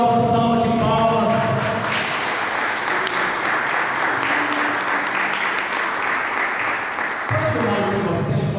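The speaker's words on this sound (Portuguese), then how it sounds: "dar ao Senhor uma gloriosa salva de palmas" A church congregation applauding together during a worship service, a dense, steady patter of clapping that holds for several seconds before tapering slightly at the end.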